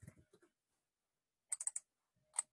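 A computer mouse clicks in quick pairs while formatting in a word processor, with a few close, sharp double clicks separated by silence, and brief soft handling noises at the start.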